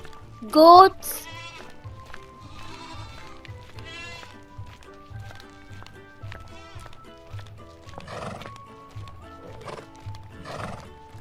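A horse gives a loud, sharp neigh near the start. Hoof clip-clops and bleating farm animals follow over a backing melody.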